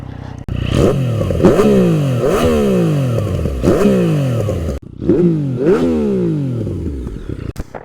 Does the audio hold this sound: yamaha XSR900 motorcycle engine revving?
yes